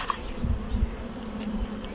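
Honeybees buzz around an opened hive frame with capped pollen stores, a low steady drone close by with faint overlapping wingbeats and a few soft knocks, no talk.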